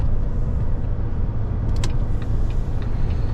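A car drives along a city road through roundabouts in Khmelnytskyi, giving a steady, close engine and tyre rumble throughout, with a few faint high squeaks near the middle.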